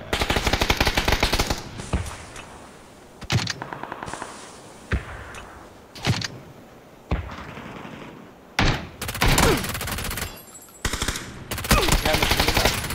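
Rapid automatic gunfire in PUBG, loud, close bursts of shots separated by short pauses, with more volleys crackling in from different directions over about thirteen seconds.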